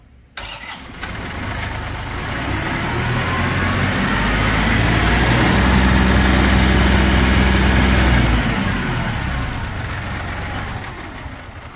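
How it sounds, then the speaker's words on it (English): A 2018 Massey Ferguson 1749 tractor's diesel engine starts and revs up, a steady loud rumble building and then easing back, close by with no talking. "And just rev it up a little bit."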